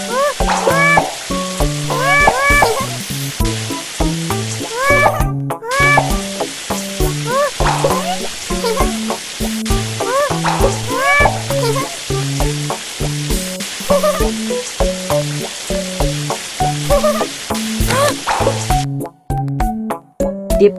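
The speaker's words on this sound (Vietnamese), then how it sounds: "Kỳ cọ, kỳ cọ." Scrubbing of a dirty building's outer walls in a children's cleanup video game: a continuous brushy, fizzing rub plays under bright, bouncy game music with chiming notes, cutting out briefly near the end.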